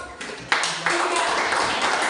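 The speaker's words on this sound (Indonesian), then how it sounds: "Tepuk tangan dulu untuk kelompok" Classroom applause for a student group, a short burst of hand clapping that starts sparse and quickly grows denser, fairly close and moderately loud.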